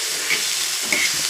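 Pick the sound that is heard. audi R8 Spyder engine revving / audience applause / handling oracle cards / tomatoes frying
tomatoes frying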